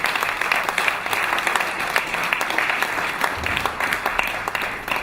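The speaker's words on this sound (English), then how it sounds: "Ladies and gentlemen, please a big round of applause for His Excellency General Yakubu Gowon" A summit audience applauds General Yakubu Gowon with a dense, sustained round of many hands clapping, loud and steady throughout with scattered sharper claps.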